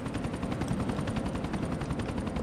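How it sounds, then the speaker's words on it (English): Helicopter in Grand Theft Auto IV, its rotor thumping in a fast steady chop that stays loud and close for the whole stretch with no talk. "Yo, Money, there's a chopper turning up"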